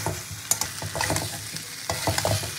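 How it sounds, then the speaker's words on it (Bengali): Jackfruit and prawns fry in spices in a hot pan, a spatula stirring and scraping in quick irregular strokes over a steady sizzle, close and fairly loud, without speech. "তো আমি মশলার সঙ্গে খুব ভালো করে নেড়ে চেড়ে কষিয়ে নেবো"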